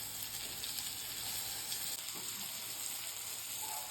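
Eggplant slices sizzle in hot oil on a low flame, making a continuous, dense hiss and crackle up close that stays level from start to finish, with no talking.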